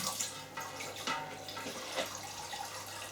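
Vodka wash is siphoned into a home pot still, making a soft, steady trickle and gurgle of flowing liquid with a few small splashes, faint and close with no speech.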